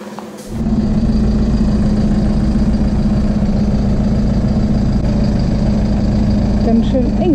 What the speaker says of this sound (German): Ich höre den großen LKW schon von oben